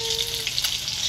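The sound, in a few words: fish and potatoes frying in oil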